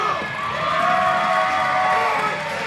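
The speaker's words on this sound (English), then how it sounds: "He just scared this crowd into cheering." A wrestling crowd at a Thanksgiving pro-wrestling show cheers loudly and continuously, with whoops and shouts blending into a dense roar.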